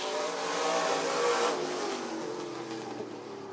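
Late model race cars roar past at Rockford Speedway, a dense, loud wash of engines that swells around the middle and then slowly fades as the pack moves away.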